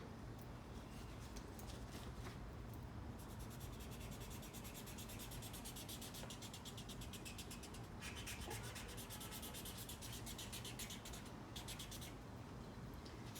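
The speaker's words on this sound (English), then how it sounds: "take your yellow crayon and color the load" Yellow crayon rubbed across paper to colour in a drawing of cement blocks, giving a steady, close scratchy rubbing that runs continuously for the whole stretch with no talking.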